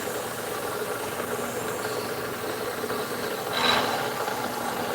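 A CNC machine mills a converter passage in a transmission valve body, giving a steady, dense grinding and rasping hiss with a brief brighter scraping swell near the end.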